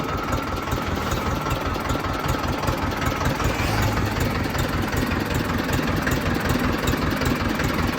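A tractor engine idling close by, a steady low chugging rhythm of rapid knocks that keeps going without change, with no voices.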